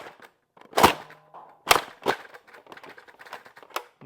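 A Nerf N Series Infinite blaster, worked with the trigger held down, gives a few sharp plastic clacks and rattles close up, then lighter ticking, with no dart shots.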